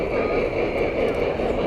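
O scale three-rail model articulated steam locomotives run at a club layout during a train show, giving a steady, dense rumbling roar with a constant background murmur.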